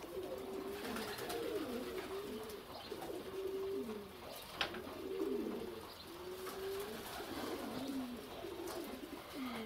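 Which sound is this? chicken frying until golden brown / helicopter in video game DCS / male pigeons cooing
male pigeons cooing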